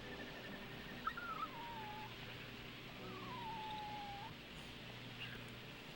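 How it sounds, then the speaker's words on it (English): A dog whimpers in the Rule of Rose video game, two drawn-out, falling whines heard faintly over a low ambient drone. "as you hear little whimpers out, continue to head in that direction"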